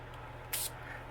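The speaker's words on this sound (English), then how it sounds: "I'm going to go ahead and spray the back side of it." A single short hiss of spray, about a fifth of a second, against a quiet background.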